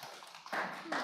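Brief bursts of applause break out at a city council meeting, two short rounds of hand clapping in a row, moderately loud against the room's quiet background.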